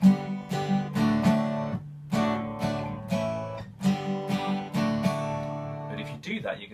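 Strummed acoustic guitar chords ring out in a steady rhythm, with several distinct strums and sustained open voicings, close and moderately loud.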